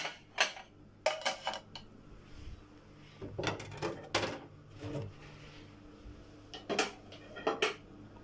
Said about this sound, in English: Here I'm taking this washed dishes here to create space and put them up here.